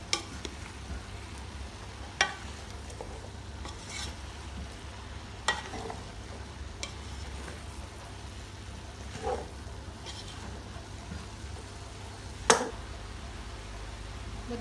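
Rice noodles (pancit bihon) being stirred and fried in a pan: a steady low sizzle with occasional sharp scraping clacks of the utensil against the pan, spaced a few seconds apart, with no talking.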